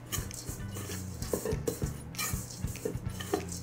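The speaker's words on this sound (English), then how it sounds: "And I'm going to give this just a little stir." A spoon stirs dry apple crisp topping with ground cardamom in a bowl, making soft scraping and light intermittent clinks against the bowl, close and quiet, with no talking.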